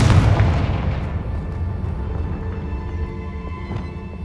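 Confringo fire spell exploding in Hogwarts Legacy: one heavy, close boom that hits at once and decays into a long rumbling tail over low background drone.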